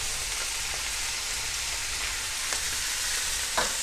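Paneer chilli sauces (green chili, soya and red chili sauce) sizzle and fry steadily in a hot pan, with a few soft scrapes as the mixture is tossed.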